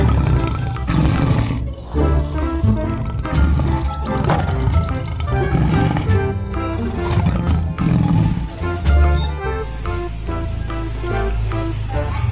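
A toy tiger lets out loud, close recorded roars and growls, layered with jungle-like background noise and some chirping, playing continuously without any talk.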